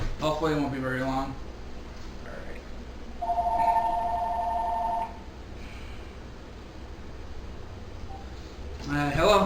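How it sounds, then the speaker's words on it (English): An incoming phone call sounds as an electronic telephone tone that rings for about two seconds, while someone talks before and after it in a room where a computer is being built. "Uh-oh, phone call."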